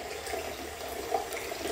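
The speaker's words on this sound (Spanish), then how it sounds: "Escucha cómo el agua corre" Water runs steadily from a tap, a continuous broadband rush without pause and no voices.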